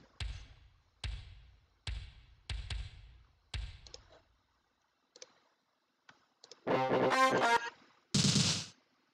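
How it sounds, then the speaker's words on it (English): A kick drum from an old hip hop kit, routed through a reverb channel in a Mega Man X theme arrangement, booms five times about a second apart with long washy tails. A loud bright synth chord burst follows. "Why does the kick have so much reverb on it?"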